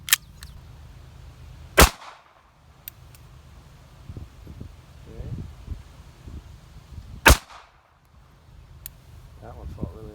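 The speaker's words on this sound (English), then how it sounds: "So the test gun today is the Ruger LCP2, and we're going to fire the HST, the ARX, and the Extreme Penetrator from Underwood in that order." Two sharp, loud shots from a Ruger LCP2 .380 pistol fired into wood outdoors, spaced several seconds apart, with faint clicks and quiet talk in between.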